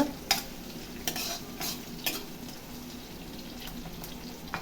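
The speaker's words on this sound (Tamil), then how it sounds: "இப்போ இதை நல்லா கலந்து விட்டுக்கலாம்." Chopped small onions sautéing for chicken biryani, with a soft, quiet sizzle under several sharp stirring scrapes and clinks of a spoon against the pan, spaced about a second apart.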